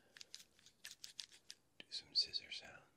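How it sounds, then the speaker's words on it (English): A pair of scissors snips through beard hair close up, giving a few crisp cuts after a stretch of soft whispering. "do some scissor sounds."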